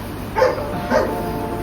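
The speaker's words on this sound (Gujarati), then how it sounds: "અડકાયું કૂતરું છે ને" A dog barks twice, short and fairly close, with a half-second pause between the barks.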